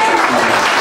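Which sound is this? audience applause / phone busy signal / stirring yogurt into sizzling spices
audience applause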